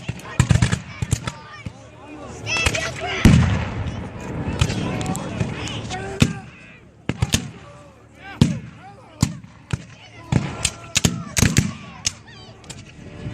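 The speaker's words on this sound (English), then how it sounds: "They'll continue to fire the Confederate ranks." Gunfire booms and sharp cracks from a Civil War battle reenactment at the 2014 Battle of Aiken, with artillery and musket volleys firing on the Confederate ranks. Irregular loud blasts and bursts of firing rise over crowd noise and talk.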